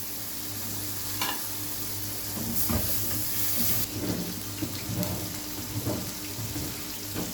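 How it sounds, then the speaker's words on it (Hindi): Water poured into a pan of spices (dry coriander and cumin) while cooking taro curry, giving a steady hiss and sizzle with a few stirring clatters and no talk. "मसाले में थोड़ा सा पानी डालेंगे"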